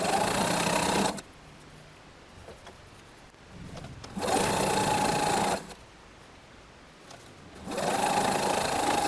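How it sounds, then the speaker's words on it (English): Domestic sewing machine stitching quilt blocks together into rows for a tropical fish art quilt, running in three steady bursts of fast, even whirring separated by quiet pauses, close and alone with no talk. "Sew the blocks together in rows, keeping the 4 borders separate."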